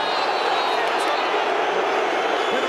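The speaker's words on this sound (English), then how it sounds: "the crowd don't like it" Rugby stadium crowd at an England versus Ireland match reacting with a steady, loud roar of disapproval after a penalty call, a dense continuous wash of many voices with no clear breaks.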